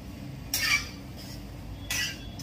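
A spoon stirs mixed vegetables with roasted sesame seeds in a pan, making two short metallic scrapes and clinks close by against a quiet background, with no talking.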